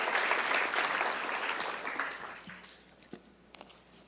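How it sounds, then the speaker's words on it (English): Audience applause at a Carnatic violin arangetram concert honoring a mridangam vidwan, a loud dense clapping that gradually thins and fades, with a few scattered final claps near the end. "Once again, a big round of applause to our Vidwan Shankara Narayanan"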